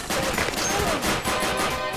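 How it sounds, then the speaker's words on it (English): Heavy machine gun fire in the VR shooter Crisis VRigade 2, a dense, continuous burst of rapid gunshots and crashing impacts filling the whole stretch at close range. "Heavy machine gun."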